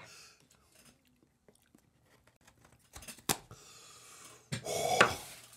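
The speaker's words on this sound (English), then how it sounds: "90 seconds is a long time to chew" Someone chews the world's spiciest chip, a 16 million Scoville tortilla chip. Faint crunching and mouth sounds come up close, then louder rustling bursts toward the end.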